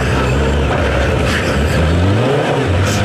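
A Honda CBR1000F motorcycle engine running steadily and loud on the road, a continuous close mechanical drone with no talk.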